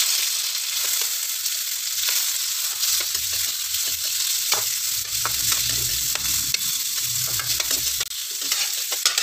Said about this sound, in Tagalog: Siyempre, unahin muna natin na lutuin ang ating carrots.